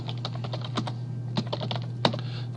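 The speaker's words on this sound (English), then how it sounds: "So I'm just going to lock my cap locks and type in my name" Rapid, uneven keystrokes on a computer keyboard while typing in a name in caps lock, close and clear over a steady low hum, with no talking.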